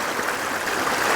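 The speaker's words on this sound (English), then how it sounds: "So these streams are flowing quite a bit." A hiking-trail stream runs high after days of heavy April rain, a steady full rushing wash of water, close and continuous with no voices.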